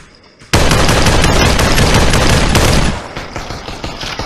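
Gunfire in the VR battle royale game Population One: a sudden, loud, dense burst of rapid automatic shots lasting over two seconds, followed by quieter scattered firing.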